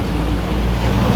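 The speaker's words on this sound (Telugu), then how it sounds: "వచ్చి వాటర్ ఫౌంటైన్ ఎలా ఉందో చూడండి, సూపర్ ఉంది కదా" A water fountain in the Dubai flower garden gives a steady, loud rush of splashing water with no talking.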